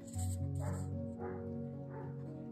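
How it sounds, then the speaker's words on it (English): A neighbor's dog barks three times in an even rhythm, somewhat distant and muffled, over a steady low hum. "Sorry about the barking dog"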